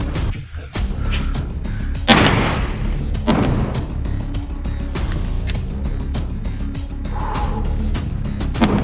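Live-fire gunshots at a 25-yard range drill, a string of ten rounds fired as sharp, loud, fairly close cracks at irregular intervals over steady background noise.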